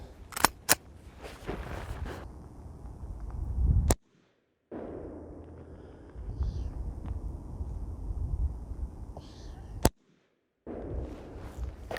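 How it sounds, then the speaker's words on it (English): Several sharp, loud 9mm shots fire from a Glock 17 with 115 grain rounds at a Tactical Scorpion Gear III+ PE body armor plate in an MCK Gen 2. Two quick shots come early, then single cracks after pauses, with faint background shuffling between them. "with some 115 grain 9mm out of the Glock 17 in our MCK Gen 2"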